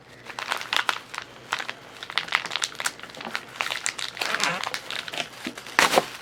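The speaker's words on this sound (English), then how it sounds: "And then you gotta cut the goo sack open." A goo sack inside a Treasure X Alien slime toy is cut open up close, giving crisp crinkling plastic and wet, squelchy crackles in a dense, uneven series.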